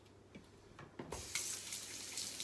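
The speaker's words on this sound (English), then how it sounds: "First things first, wash my hands." A kitchen tap turns on and water runs steadily into a sink for hand washing, starting with a few small knocks and splashes and then becoming a loud, continuous close rush.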